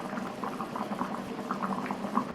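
A pot of curry with dumplings bubbles steadily at a rolling boil, thick popping bursts continuing throughout with no voices.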